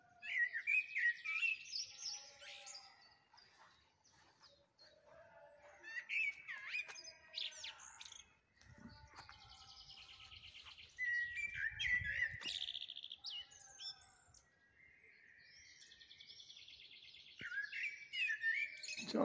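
Outdoors, a blackbird delivers several fluting, warbling song phrases separated by pauses, with faint low rumbling in the background and no talk.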